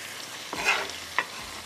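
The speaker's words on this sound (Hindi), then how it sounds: "इसमें जाएगा प्याज, हाई फ्लेम पे आपने करना है" Onions hit hot oil with chicken in a pan over a high flame, giving a brief crackling sizzle broken by a couple of stirring scrapes, close and moderately loud with no talking.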